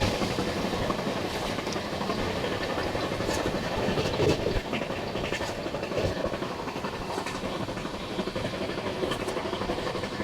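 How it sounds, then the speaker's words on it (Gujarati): A superfast passenger train runs on rails near Navsari, Gujarat, heard as a loud, steady rumble and rattle of wheels and carriages, continuous throughout without pause. "superfast train"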